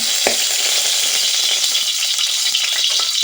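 Close, constant hiss and crackle of food frying in hot coconut oil in a pan, with a sharp knock at the start.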